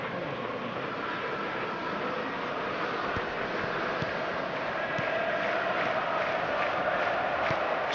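A stadium crowd in a football video game roars in a steady, dense wash of cheering and chanting that holds at an even level throughout, with no individual voices standing out.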